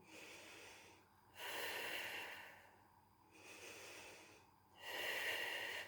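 Slow abdominal breaths drawn deeply through the nose, alternating long airy inhalations and softer exhalations, close and intimate with quiet pauses between, no speech.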